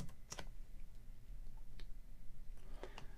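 Typing on a computer keyboard, a few sparse clicks and short bursts of key taps at close range against a quiet background.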